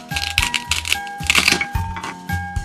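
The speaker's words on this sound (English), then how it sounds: "Now we're just gonna use this knife to cut it." A knife cuts through toy bread in a series of sharp plastic clicks and clacks, each stroke a quick rattling burst, close and crisp with short pauses between cuts.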